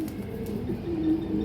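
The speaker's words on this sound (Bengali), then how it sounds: "এই যে এটা মাদি কবুতরটা" A female pigeon of an old breed at a pigeon farm coos nearby, a low, soft repeated coo rising through a quiet background with no talking.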